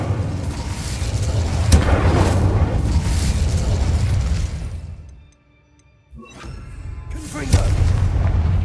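In an abandoned mine in Hogwarts Legacy, the Incendio fire spell bursts out with loud, booming roars that cut to near silence and then flare up again with a sharp blast.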